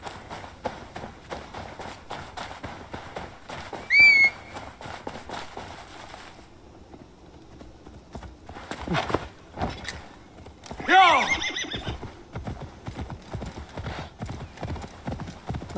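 Rapid hoofbeats of a galloping horse in Assassin's Creed Valhalla, with a neigh and some game effects, the clopping continuing steadily throughout.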